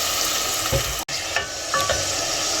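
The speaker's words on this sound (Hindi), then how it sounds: "भूनेंगे टमाटरों को ज़रा सा सॉफ्ट होने दें, 2 से 3 मिनट" Tomatoes frying in a pan with ginger garlic paste, a steady broadband sizzle with a few soft stirring scrapes, close and continuous with no talking.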